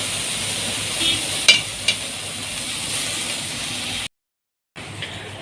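Spinach added to a pot of Egyptian cooking, a steady loud sizzle of frying with a few clinks and scrapes of stirring, close by, then a brief cut to silence before the frying resumes.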